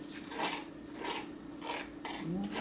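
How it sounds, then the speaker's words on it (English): A knife scrapes butter across challah bread in three or four soft, rasping strokes, close and quiet with short pauses between them. "I'm going to get a knife, put some butter on it."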